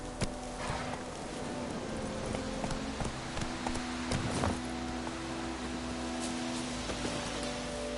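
Roach the horse in The Witcher 3 gallops with steady rhythmic hoof clops on a road, close and continuous, with faint game ambience and no talk.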